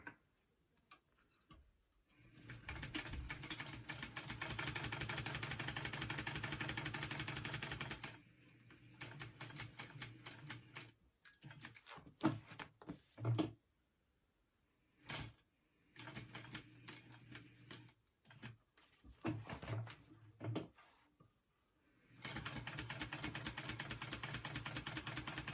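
A sewing machine stitches a handbag in quick, even ticking runs, stopping and starting several times with short pauses between bursts, fairly close and quiet overall.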